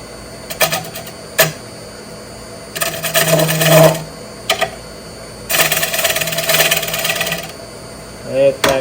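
Ambrosia maple is cut with a chisel on a wood lathe in loud, close bursts of scraping and chattering, separated by short pauses with a few sharp knocks.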